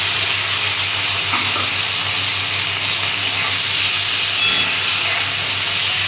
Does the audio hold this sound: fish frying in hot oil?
yes